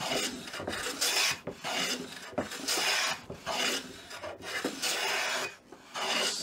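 Stanley Bailey hand plane pushed along curly Jarrah hardwood in a vise, giving repeated rasping strokes about once a second, each a rough, slightly jumping scrape, close and moderately loud with no talk.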